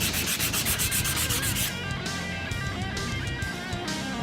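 Rhythmic sanding and rubbing on the head of a Kobalt 14-inch camp hatchet, quick repeated scraping strokes, then steadier grinding friction with squeaky tones, close and continuous with no talk.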